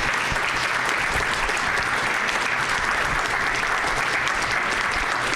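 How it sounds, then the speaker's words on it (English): Audience applause at a community meeting in Tulsa, a dense, loud and steady roar of clapping from a crowd that holds strong and even from start to finish with no voices standing out. "let's give them a round of applause."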